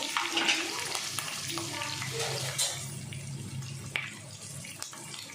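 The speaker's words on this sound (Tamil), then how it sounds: "சேர்த்துட்டு இந்த கட் பண்ணி வச்சுக்கோல ஆனியனும் கேப்சிகமும் அது ஜஸ்ட்டு ஷாலோ ஃப்ரை மாதிரி ஃப்ரை பண்ணிக்கலாம்" Cut onion and capsicum shallow fry in oil, a bright sizzling hiss with stirring scrapes and clinks that gradually softens, close by, with no clear talk.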